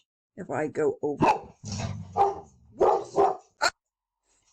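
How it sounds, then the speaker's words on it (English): A dog barks a few times close by, sharp yaps mixed with a low growl, while someone speaks briefly over it. "sorry about the barking there."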